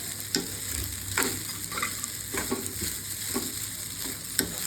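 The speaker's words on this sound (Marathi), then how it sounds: "साबुदाणा चांगलं परतून घ्यायचं" Sago pearls (sabudana) are stirred and fried in a pan, giving a steady close sizzle with periodic scraping and clinking of the spoon against the pan and no talking.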